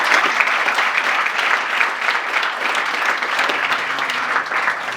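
Sustained applause from an audience at a Senior Royalty Court coronation during the Saint Paul Winter Carnival, a steady dense wash of clapping filling the room for several seconds with no voices on top.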